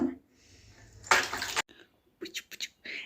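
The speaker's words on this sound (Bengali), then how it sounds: "বাবা নিজেই স্নান করে নিচ্ছে" Water splashing as a small boy bathes himself, a loud pour or splash burst followed by several short sloshes, with a soft voice nearby.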